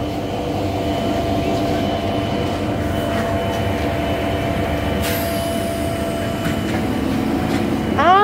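A metro train of cars 4038 and 4045, not in service, rumbles steadily as it pulls away from South Gosforth, with a constant motor hum, a brief high whine, and rising pitch near the end.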